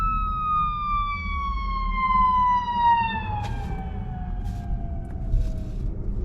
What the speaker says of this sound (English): You can see the difference between the city of Chicago ambulance and the suburbs.